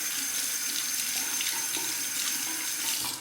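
A razor is rinsed under a running tap, the water pouring in a steady, close, loud stream with faint splashes and no talking.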